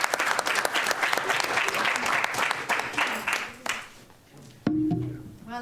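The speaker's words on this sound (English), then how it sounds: "Let's give an applause for the" A Celebration Day audience at JAMK gives sustained applause, dense clapping that fills the room before fading, followed by a brief voice.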